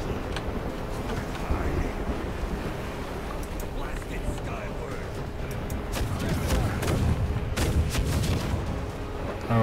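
In the pirate game Vendetta - Curse of Raven's Cry, a ship's cannons fire in scattered, muffled booms over continuous ocean waves and wind, building slightly louder toward the end.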